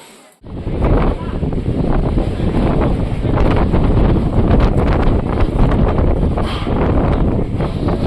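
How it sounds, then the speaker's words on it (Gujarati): Strong wind blows hard across Pavagadh hill, a loud continuous roar buffeting the microphone for several seconds without letting up. "મિત્રો ખરેખર જોઈ શકો છો કેટલો જોરદાર પવન છે."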